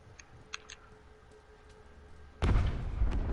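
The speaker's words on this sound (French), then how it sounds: "Parce qu'il y a une explosion, gros." An explosion in The Last of Us survival game, a sudden loud boom that erupts after a quiet stretch of faint ticks and sustains as a heavy roaring rumble.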